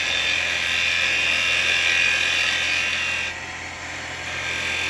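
A carbide chisel cuts a small firewood bowl spinning on a lathe, giving a continuous high whirring scrape that eases briefly partway through, up close and alone.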